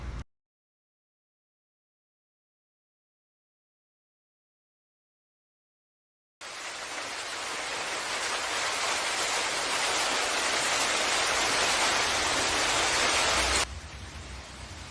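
Heavy rain hisses in a dense, steady wash, starting abruptly after several seconds of silence and holding strong before dropping slightly near the end, with no voices.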